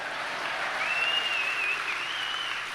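Audience applause at a live conversation event, a steady wash of clapping from a crowd, moderately loud and unbroken.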